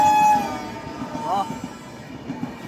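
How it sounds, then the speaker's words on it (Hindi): Horn of the Katihar-Delhi Champaran Humsafar Express as it overtakes, a sustained tonal blast at the start and a shorter one midway over rumbling train noise, with a man's brief exclamation. "क्या हॉन्क मार के निकले भाई साहब"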